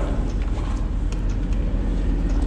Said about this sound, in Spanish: era una grabación de un carro